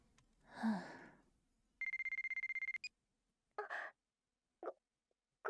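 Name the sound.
mobile phone ringing in the video game White Album 2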